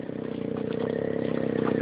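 A motorcycle engine runs with a steady, rapid putter, close and moderately loud, with no voices over it.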